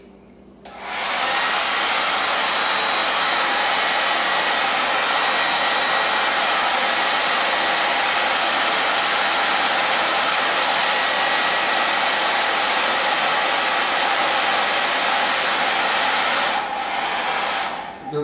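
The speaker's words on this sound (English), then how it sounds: "Mac, turn the hair dryer on to heat up your cheeks" Hair dryer blowing steadily for a long stretch, a loud even whooshing roar that starts abruptly, holds constant and cuts off near the end, with no talking.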